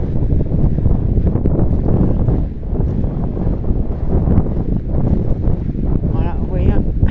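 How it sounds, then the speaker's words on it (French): Strong gusts of wind buffet the microphone in a continuous loud rumble, with a voice talking faintly underneath, outdoors at Noirmoutier on the French coast. "Il y a énormément de vent."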